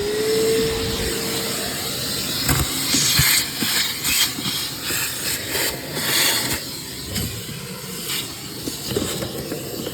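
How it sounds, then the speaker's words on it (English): A vacuum cleaner runs inside a BMW X5M, with a steady whooshing hiss and a whine at the start, and bursts of rattling suction as the nozzle moves across the interior. "let's get a vacuum in there"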